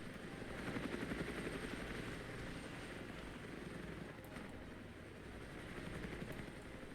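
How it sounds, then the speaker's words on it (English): Helicopter rotors thump and drone steadily in the war strategy game Armored Brigade, a continuous beating roar at moderate distance with faint scattered clicks, no talking. "More helicopters inbound."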